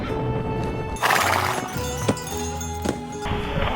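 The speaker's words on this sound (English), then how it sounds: "Now we're going to take the horses." Horses neigh and whinny close by in the Dolomites, with hooves clip-clopping and a few sharp knocks, heard alone with no talk.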